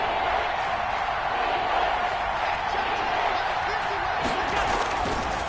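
Stadium crowd noise in a PS4 football video game, a steady, loud wash of roaring fans building near the goal line during a Buffalo drive, continuous throughout with no distinct breaks.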